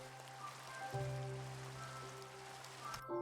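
Rain falling in the Minecraft GregTech New Horizons modpack forms a soft, even patter beneath a steady low machine-like hum and tonal drones, at low level, with no talk.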